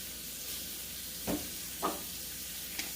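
Onions frying in oil in a pan, a faint steady sizzle with a few soft stirring scrapes, close and quiet, no talking.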